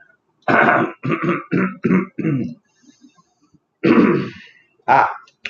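A person clears their throat repeatedly in a series of harsh, close hacking bursts, pauses, then gives two more loud clearing coughs.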